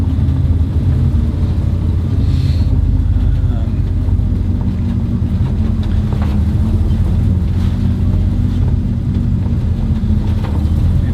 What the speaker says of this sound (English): Maybe I'll just drive right through here. Do a bit of off-roading, eh?